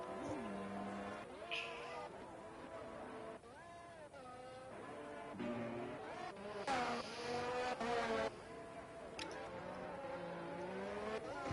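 A race car engine on a sim racing lap at Bahrain revs and shifts through gears, pitch rising and dropping with each upshift and braking zone, heard steadily and fairly faint, with a squeal of tyres mixed in.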